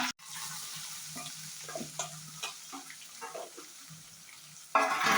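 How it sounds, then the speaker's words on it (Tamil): Mustard seeds, cumin, chana dal, curry leaves and green chillies fry in oil in a kadai, a soft close sizzle with scattered pops and stirring scrapes, swelling into a louder hiss at the end. "நல்லா எல்லாம் பொரியட்டும், நல்லா வதங்கி வரட்டும்."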